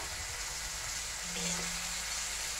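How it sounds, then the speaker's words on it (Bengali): Eggplant frying in a pan as it is stirred, a soft, even sizzle heard close up with a faint hum underneath. "বেগুনটা দিয়ে দিয়েছে, দিয়ে ভালো করে একটু নাড়িয়ে নিচ্ছে"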